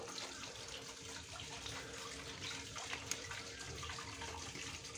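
A small yellow water pump pushes water through a narrowed pipe, giving a steady, dense gushing rush that runs unbroken throughout at moderate level.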